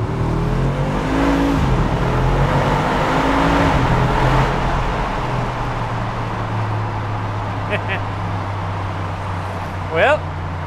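A Mercedes-AMG G63 Stöckl Edition drives through a tunnel with its window open, the engine droning and briefly swelling as it accelerates under steady road rumble, with someone talking over it.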